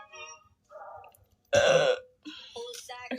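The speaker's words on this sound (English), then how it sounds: "I just hiccuped and burped at the same time." A loud, abrupt burp mixed with a hiccup from a girl, heard close up between bits of her talking before and after.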